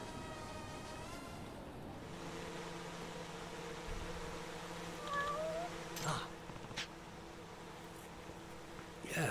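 Cat meowing in the video game Judgment, a couple of short mid-pitched meows over steady background music and ambient hum, fairly faint, with a few sharp clicks late on.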